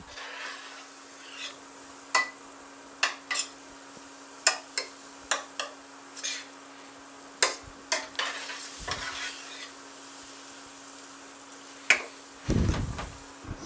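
Flour and beef stirred in a pan, a spoon scraping and clunking in irregular bursts against the cookware, close and fairly loud, with a soft sizzle and one longer rough scrape near the end.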